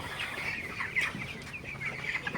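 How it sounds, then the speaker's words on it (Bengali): Farm chickens clucking as they eagerly eat feed after going unfed through the heat of the day, with overlapping clucks in a busy cluster close by and no talk. "মুরগিগুলো পাগলের মতো খাইতেছে"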